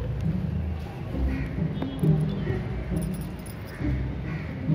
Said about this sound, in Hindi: चाबी